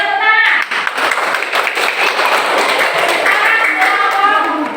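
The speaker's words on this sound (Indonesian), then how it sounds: "Beri tepuk tangan" Pupils clapping in a combined fourth- and fifth-grade primary school classroom, rapid loud hand claps packed together across the whole stretch, with voices underneath.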